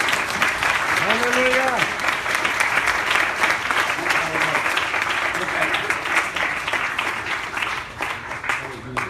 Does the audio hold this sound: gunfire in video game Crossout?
no